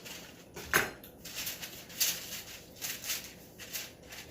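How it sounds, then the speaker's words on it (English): A metal baking tray of hazelnut cookies is slid into an oven, giving a sharp clatter of metal followed by lighter knocks and scrapes, close and fairly quiet, with no speech. "And then we'll stick that in the oven"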